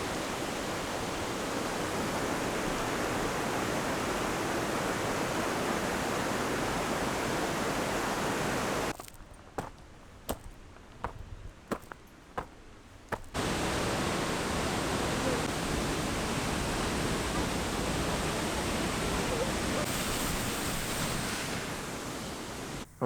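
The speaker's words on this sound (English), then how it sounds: "Mojstrana, which offers probably the best waterfall I've ever seen in my life" A large waterfall near Mojstrana, Slovenia, dropping about 52 meters, roars loud and continuous, with a brief stretch of muffled near-silence in the middle before the full rushing roar returns.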